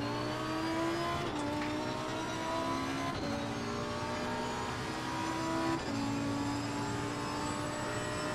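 Lamborghini race car engine in Assetto Corsa Competizione, loud and steady with a strong whine that climbs in pitch and drops sharply at each gear change, several upshifts in a row.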